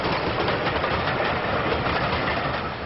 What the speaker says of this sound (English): The Swindon-built Standard 4, restored to its BR appearance, heads another assorted rake of coaches